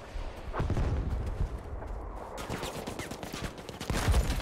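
A frag grenade goes off in Battlefield V multiplayer amid a dense burst of gunfire and blasts. Sharp cracks and booms overlap in a chaotic, loud wash of combat noise.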